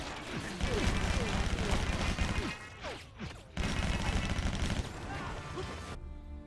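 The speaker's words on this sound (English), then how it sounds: "you get these cool swift bullet sounds as they pass near you" Gunfire in the action video game Stranglehold: bursts of rapid shots and whizzing bullets passing close by, with mechanical clatter and crashes, a brief lull midway, then another loud barrage.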